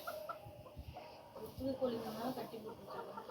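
Soft, irregular clucks from a newly bought hen foraging close by, mixed with voices and general outdoor noise.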